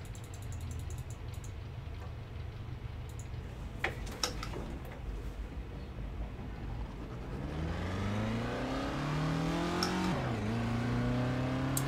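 A Reliant Robin's engine strains while racing at Bathurst with a failing engine, a continuous mid-pitched drone with ticking and whirring, then rising revs climbing and dipping as it accelerates.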